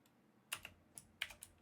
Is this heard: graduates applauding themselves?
no